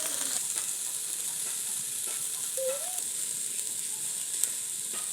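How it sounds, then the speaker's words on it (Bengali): Rice, lentils and vegetables fry in a pan, giving a steady, soft sizzle and hiss throughout, with a few faint stirring scrapes near the mic and no voice. "এগুলো কষিয়ে নেওয়া হয়ে গেছে, ভাজা ভাজা করে ফেলেছি চাল, ডাল, তারপর সবজিগুলো"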